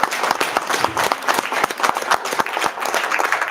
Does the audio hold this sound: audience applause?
yes